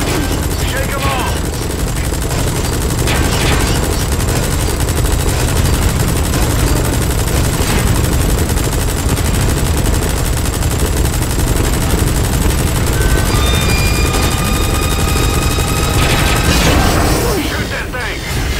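A helicopter-mounted minigun fires in Metal Gear Solid V: The Phantom Pain, a loud, sustained stream of rapid gunfire with explosive booms, rotor noise and voices beneath, running almost the full length before cutting off near the end.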